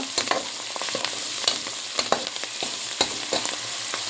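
Onions fry in a pan for prawn pulao, giving a continuous sizzle broken by repeated sharp scrapes and clinks of a spatula as they are stirred, close and fairly loud, with no talking.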